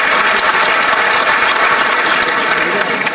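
Loud, dense clapping from a crowd of youth and students at a Bhopal event with the state chief minister, a continuous close burst filling the short stretch.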